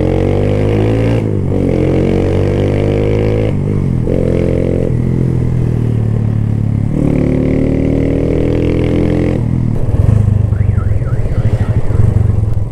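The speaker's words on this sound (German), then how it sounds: "da ist einfach gerade die Alarmanlage angegangen wegen mir" A car alarm blares nearby in Bali traffic, set off by a loud motorcycle, its siren cycling through rising and falling tones and changing patterns, loud and continuous with no talking.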